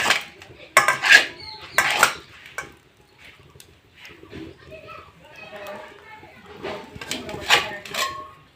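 Dishes and cutlery clatter close by as a hot rice-flour and sugar-syrup dough is lifted onto a plate, with loud knocks early on and more scattered clinks later, over voices that sound partly like children.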